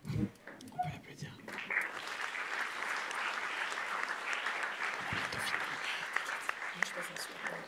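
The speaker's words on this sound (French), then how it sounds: "On peut l'applaudir." Steady applause from a crowd, continuous clapping that holds for several seconds, with brief voices at the start.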